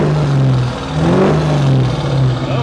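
A stock Duramax diesel truck with stacks revs up close by, its droning engine note dipping and then climbing again as the throttle is blipped.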